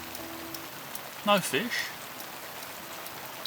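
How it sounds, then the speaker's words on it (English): Steady rain hiss pours down at a fishing lake throughout, fairly even and moderately loud, with someone briefly speaking over it midway. "it's been tipping down with rain ever since"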